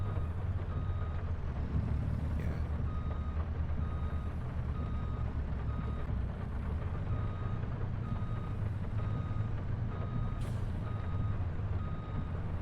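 Reversing beeps pulse steadily at a regular rhythm over a heavy diesel truck rumble as the logging truck maneuvers in a tight spot in Riverbend Springs, with an occasional hiss of air brakes; no voices.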